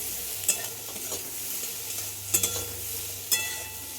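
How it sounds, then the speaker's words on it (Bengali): Potato and pointed gourd with turmeric, green chilli and chopped tomato are stirred in a pan, giving a soft sizzle with three sharp scraping knocks of the spoon at irregular intervals. "এবার দিয়ে দেবো হলুদ, কাঁচা লঙ্কা আর টমেটো কুচি। এটা দিয়ে নাড়াচাড়া হবে।"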